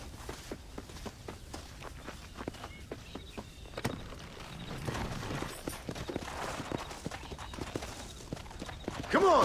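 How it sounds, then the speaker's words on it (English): Horse hooves clip-clop in a steady trotting rhythm while riding in Red Dead Redemption, moderately loud, mixed with light ambient game sound and a brief tonal effect at the end. "vamos então montar o cavalo"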